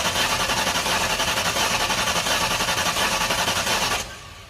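A 1999 Mustang GT 5.0L stroker V8 runs close and loud with a fast, steady pulsing throb for about four seconds, then drops away sharply near the end.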